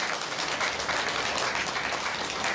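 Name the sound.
audience applause at Turtle Talk show, Tokyo DisneySea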